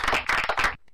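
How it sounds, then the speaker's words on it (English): A short burst of clapping from a small studio audience for Mike Benson on a morning radio show, close and brisk in three quick surges before cutting off. "We'll give him another round of applause."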